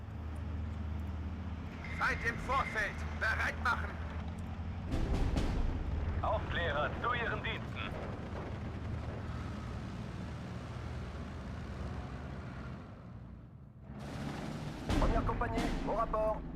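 Machine gun bursts and battlefield explosions in the WWII strategy game Steel Division 2, Dukla Pass map, rattling in short volleys over a rumbling low background, with someone talking over parts of it and brief German voice lines.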